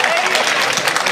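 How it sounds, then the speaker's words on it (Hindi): An audience at a Nimar Utsav cultural performance in Maheshwar bursts into dense, sustained clapping, loud and close, filling the whole moment. "तालियां बजा दीजिए एक बार"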